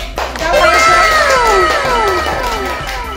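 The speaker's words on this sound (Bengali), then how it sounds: "হাততালি দাও।" A crowd of children claps and cheers loudly at a trophy ceremony for a kids' football match, with excited shrill shouts rising and trailing off over about three seconds.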